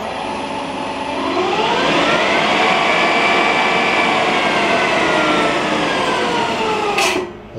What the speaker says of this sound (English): get rid of the top of this using a two insert little cutter, and we'll give that a go